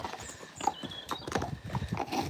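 Horse hooves clip-clop on a driveway lined with daffodils, a run of quick, fairly close, irregular steps with no talking.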